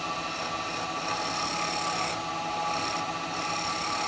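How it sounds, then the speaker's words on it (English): A steel chisel undercutting a small yew wood pot on a spinning lathe, giving a continuous loud rasping scrape with steady broadband hiss and slight variations as the tool shifts. "I'm just going to grab an SCH4 chisel, just so I can get in for this undercutting"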